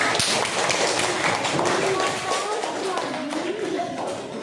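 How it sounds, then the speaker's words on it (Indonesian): A room of people claps in a dense burst of applause, with voices talking over it. "Berikan tepuk tangan"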